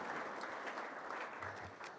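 A crowd at a company safety kickoff meeting claps briefly, a faint, even patter of applause heard at some distance.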